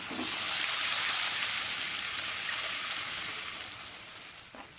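Garlic chutney and curry leaves frying in a pan for Gujarati rasiya muthiya, a steady bright sizzle that swells early and slowly fades, with a light stir near the end.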